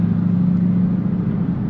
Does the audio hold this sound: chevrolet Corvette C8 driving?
yes